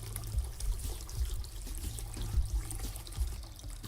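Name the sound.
rinsing hands under running water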